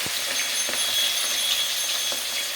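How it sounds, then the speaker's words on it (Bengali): Chicken pieces fry in hot oil in a kadai for biryani, giving a steady, close sizzle that stays even for the whole stretch with no voices. "এই দেখো, এবার আমরা চিকেনগুলোকে দিয়ে দিচ্ছি কড়াইয়ের মধ্যে।"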